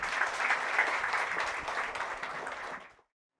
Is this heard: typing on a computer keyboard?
no